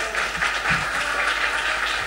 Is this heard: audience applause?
yes